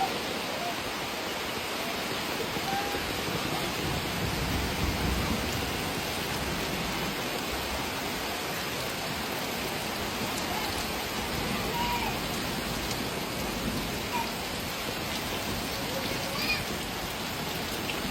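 Steady rain pours onto a roof that leaks indoors, a dense, even hiss of falling water that continues without a break at constant loudness.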